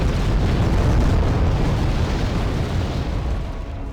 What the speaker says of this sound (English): That was a very good bomb strike.